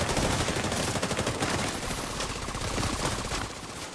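Rapid automatic fire from the MPX submachine gun in the video game The Division 2, loud and close in one sustained burst of closely spaced shots that fills the whole moment.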